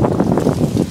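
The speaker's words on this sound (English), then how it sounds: "Windy." Wind gusting outdoors against a microphone during brake work on a 2005 Dodge Grand Caravan, a loud, steady low rumble with buffeting pulses, briefly heard alone with no talk.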